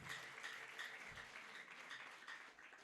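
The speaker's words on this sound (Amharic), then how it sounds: "አጨብጭቡ ለእግዚአብሔር ቃል" A church congregation breaks into sustained applause, a dense, steady wash of many hands clapping together that fills the hall with no pauses and no voices over it.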